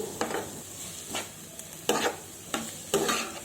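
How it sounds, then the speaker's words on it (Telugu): Onion pieces frying in a pan for a chana dal and coconut curry, a soft continuous sizzle with several distinct ladle scrapes and stirs spaced through it, close and without speech. "ఉల్లిపాయ ముక్కలు మధ్య మధ్యలో గరిటెతో కదుపుకుంటూ ఉండాలి"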